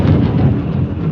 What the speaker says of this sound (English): Oh, it's lightning. I'm afraid of this.